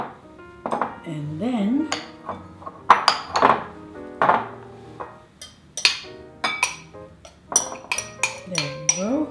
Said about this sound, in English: I'm cutting the butter in. The butter is nice and room temperature. Cut it in little pieces.